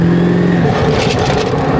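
Turbo flutter from a 7.3 L Powerstroke diesel in a Ford F250, a loud continuous whooshing rush over steady engine drone, with a tone that shifts partway through.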